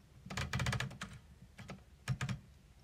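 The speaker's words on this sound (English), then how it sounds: "So when it's down, you can hear it clicking." Typewriter paper-release lever held down, giving a run of sharp mechanical clicks in two quick bursts, close and fairly quiet, with no talk.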